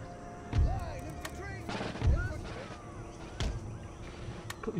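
Cannon fire in the strategy game Empire: Total War, with three heavy booming shots spaced about 1.5 seconds apart over a steady bed of battle noise and distant crackle, while someone talks throughout.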